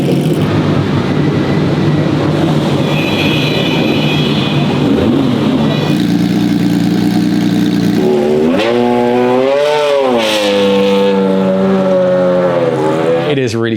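A Breadvan race car driving through the pit lane among other expensive cars at the Espiritu de Montjuic racing event, its engine a loud steady drone that rises in pitch toward the end, with faint voices in the background.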